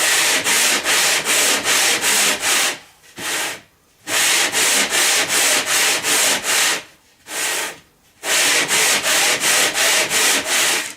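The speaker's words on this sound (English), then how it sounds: "Try and use the whole area of sandpaper rather than just sanding at the same spot all the time." Steady rhythmic sandpaper rubbing against wood in quick back-and-forth strokes, close up, with two brief pauses between bursts.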